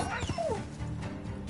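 Dogs in The Witcher 3 whimper and yelp in short, high whines during a fight, close and fairly loud over dense combat noise.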